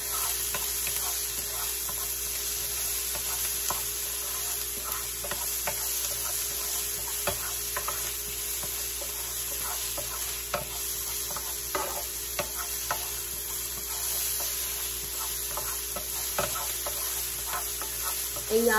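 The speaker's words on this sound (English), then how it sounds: "And we're going to mix these veggies" Vegetables sprinkled with pepper are stirred in a sizzling pan for a Philly cheesesteak, a steady frying hiss with scattered scraping taps of the utensil against the pan throughout.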